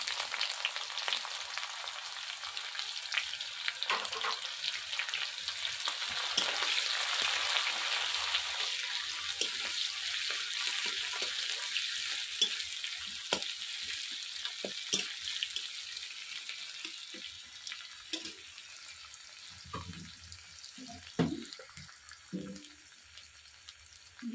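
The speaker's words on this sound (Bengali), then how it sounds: "দিয়ে দেব পেঁয়াজ কুচি।" Chopped onion frying in hot oil, a steady bright sizzle held close for a long stretch, with occasional clinks and stirring scrapes of a spatula near the end.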